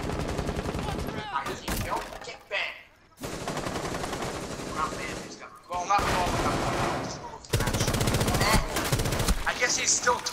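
Rapid automatic gunfire in the tactical shooter Rainbow Six Siege, long loud bursts broken by short pauses, close up and dense throughout.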